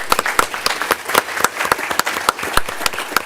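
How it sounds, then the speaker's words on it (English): Audience applause at a public meeting: a steady, moderately loud burst of many hands clapping close together, with a few sharper individual claps standing out and no speech over it. "Let's give him another round of applause."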